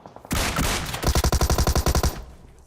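Gunfire from a DBS double-barrel shotgun in the PUBG Mobile video game: a roaring blast, then a rapid run of about a dozen evenly spaced loud shots, close and without voices.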